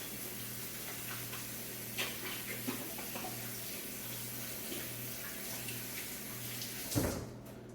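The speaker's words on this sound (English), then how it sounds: "I got to wash my hands first." Hands are washed under a running tap, a faint, steady water hiss over a low electrical hum, with a few small knocks and a brief louder splash near the end.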